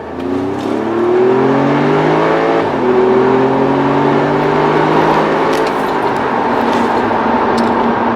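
Steady, droning engine of an Audi S3 heard from inside the cabin, its pitch rising as it accelerates, then dipping and settling into a constant hum.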